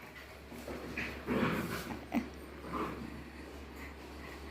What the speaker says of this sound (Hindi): और मेरे चार्ली को भौंक भौंक के इतनी धमकियां दे रही है।